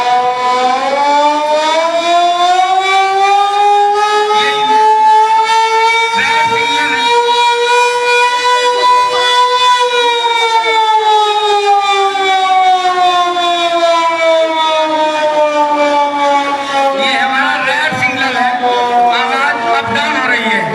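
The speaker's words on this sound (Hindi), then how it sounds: "वो सायरन किस प्रकार का बजेगा वो जरा बजाएगा।" An air raid warning siren sounds during a mock safety drill, a loud continuous wailing tone that rises and falls slowly, with voices faintly underneath.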